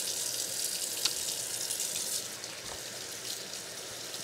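Steady stream of water from a bathroom sink tap while hands are washed with soap, a continuous close hiss with a brief splash near the start and no talking.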